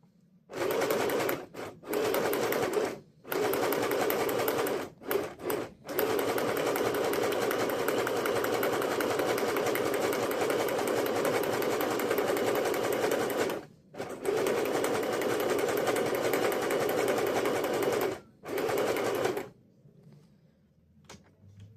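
A sewing machine stitches through paper in long continuous runs of fast mechanical whirring, stopping briefly several times before falling quiet near the end.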